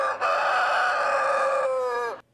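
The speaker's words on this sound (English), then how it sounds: "Look out, a good old-fashioned rooster crowing contest." A rooster at a crowing contest at the Minnesota State Fair gives a single loud, close crow of about two seconds that trails off into silence.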